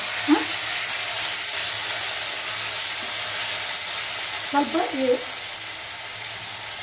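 Chopped tomatoes fry in hot oil in a pan for potato vegetable biryani, giving a steady close sizzling hiss with a couple of faint clinks or stirring sounds and no talking.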